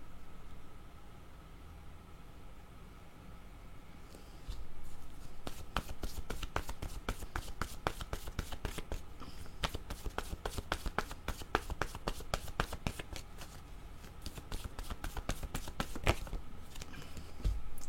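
Playing cards are shuffled and drawn for a tarot-style reading. A soft rustle comes first, then a long run of rapid, crisp riffling clicks at close range, steady and dense, with a few sharper snaps near the end.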